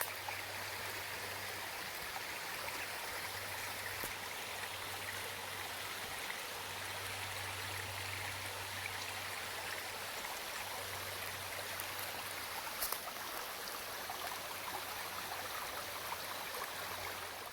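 Steady rushing water pouring over a small dam built in a pond, a continuous close babbling flow with a low hum underneath, no voices.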